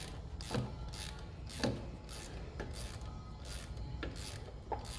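A wrench works on a plastic drain plug on a John Deere ZTrak mower, giving repeated short scraping ratchet-like strokes at an even rhythm, about ten of them, close and moderately loud without speech.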